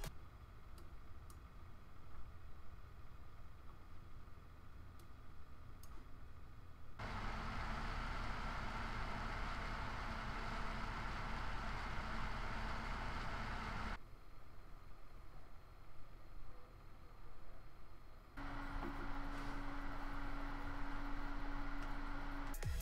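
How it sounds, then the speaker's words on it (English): Cooler Master Hyper 212 Evo and Cryorig H7 CPU cooler fans are heard in turn from close range at idle and under load, a steady broadband whir whose loudness shifts in clear blocks between quieter and louder stretches. "I did my best at recording each cooler with my Blue Snowball from 15 centimeters away at idle and load"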